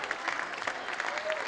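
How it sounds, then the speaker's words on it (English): A university crowd applauds a departing player at a women's squash championship final, steady clapping at moderate distance, somewhat soft and continuous, with faint voices mixed in. "it's a crowd that's applauding Haley for her services to the university"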